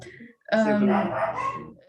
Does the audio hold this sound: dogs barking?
yes